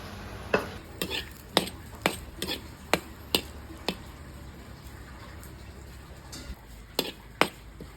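Sharp clicks and light rattles come at irregular intervals over a quiet background hiss as chilies dry-roast in a hot pan.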